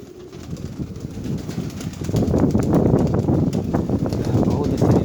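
Pigeons in a loft on a gusty day with 15–25 m/s winds, cooing in low murmurs with bursts of wing flapping that swell midway and stay busy to the end, close by, with wind and talk in the background.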